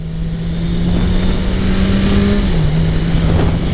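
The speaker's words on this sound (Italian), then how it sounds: "cercando di far cantare un pochino il motore per farvelo sentire" A 2017 Kawasaki Z1000SX motorcycle engine drones loud and close on the road, holding a steady pitch that rises slightly and then drops back, with wind and road noise and no talking.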